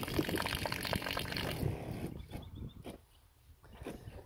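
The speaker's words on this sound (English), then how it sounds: "That's a water pump switch that primes the pump, and then basically your water on tap." Water runs from a pump-fed tap at the rear of a Land Cruiser Prado 120 tourer, a close, gushing splash that flows steadily and then drops to a thinner trickle before tapering off.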